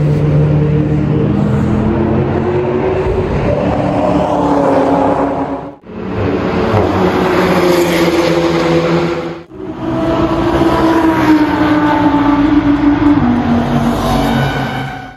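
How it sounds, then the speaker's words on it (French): An Audi R8 Spider's engine roars loudly and close at a car gathering, a sustained rumbling drone broken by two brief dips in volume. "la Spider elle sonne super fort par rapport à l'Audi R8"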